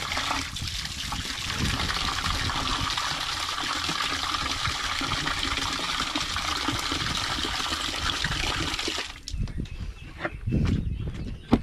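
Water is poured for ducks to drink, a steady loud splashing gush that runs for about nine seconds and then stops, leaving faint scattered knocks and handling noises.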